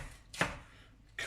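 A knife slices vegetables with diagonal cuts for a homemade poke bowl, giving one crisp, close chop in the middle and the start of another at the end, over a quiet kitchen background.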